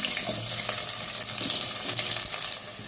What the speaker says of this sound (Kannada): ಈಗ ಎಣ್ಣೆ ಬಿಸಿಯಾಗಿದೆ ಕಟ್ ಮಾಡಿ ಇಟ್ಕೊಂಡಿರೋಂಥ ಈರುಳ್ಳಿನ ಸೇರಿಸ್ಕೊತೀನಿ